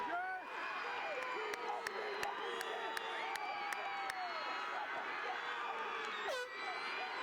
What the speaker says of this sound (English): Look at how fired up the Potters crowd is.